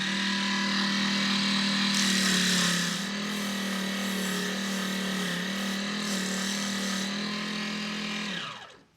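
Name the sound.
sanding the edge of a model car wheel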